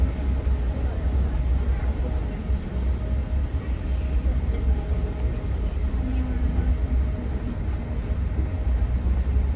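Passenger train bound for Toronto, a continuous low rumble and rolling rattle from inside the carriage, steady and unbroken with faint background sounds over the drone.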